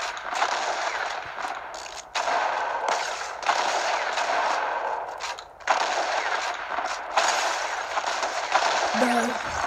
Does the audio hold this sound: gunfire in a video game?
yes